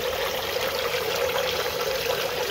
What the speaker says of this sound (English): that is what makes the waterfall feature in the back